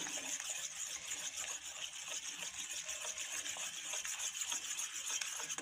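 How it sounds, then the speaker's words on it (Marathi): Cardamom and milk powder being stirred into a sweet biscuit dessert mixture make a continuous soft swishing and scraping, even and close, with no voices. "छान मिक्स करून घ्यायचं आहे"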